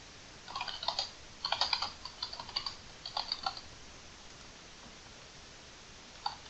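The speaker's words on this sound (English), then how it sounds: "I'm going to type h1, enter, and it fills it in." Keystrokes on a computer keyboard while entering HTML code in a text editor, a few quick bursts of clicky taps followed by a pause and one final key press, close and fairly quiet.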